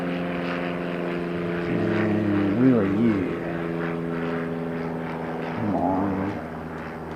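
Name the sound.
helicopter flying overhead at an airport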